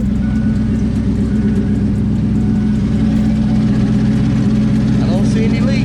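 A car engine idles steadily in park with a TH400 transmission, a loud, close, even rumble with a constant low hum that holds unchanged throughout.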